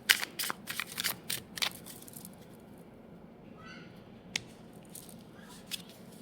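Tarot cards being shuffled up close: crisp, papery riffling bursts in the first couple of seconds, then quiet with a couple of isolated taps.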